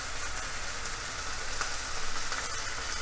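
Cherry tomatoes fry over maximum heat in a pan, giving a steady, dense sizzle with fine crackling spatter held at an even level throughout.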